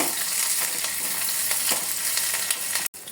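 Onion, cumin, curry leaves and green chilli frying in hot oil, a loud steady sizzle with faint stirring scrapes throughout, cut by a brief dropout near the end.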